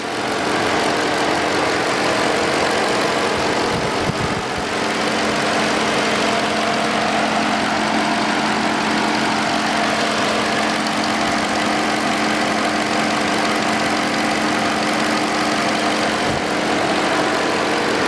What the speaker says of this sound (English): Nice, perfect timing for the fan to start to engage.